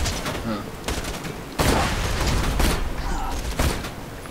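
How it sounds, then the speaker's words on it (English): A shotgun firing four slugs per shot booms repeatedly in the Borderlands 2 video game, several heavy blasts about a second apart over a busy combat background. "This gun shoots 4 slugs at a time."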